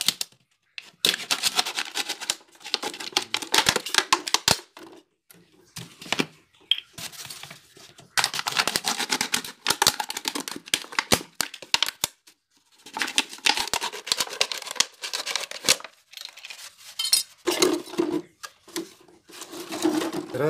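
A used tin can is cut while making a methylated-spirit toy, giving close bursts of sharp metallic snipping and crinkling separated by short pauses, with no talking.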